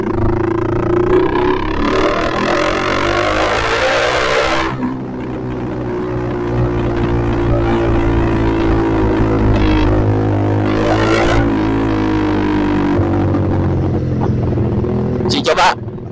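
A Honda CBR150R motorcycle engine revs hard at high RPM, a loud continuous droning whine that climbs and holds, with a gear shift break midway and voices talking over it.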